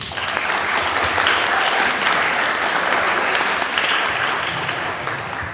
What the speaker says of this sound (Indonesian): Sekarang kita aplaus dulu.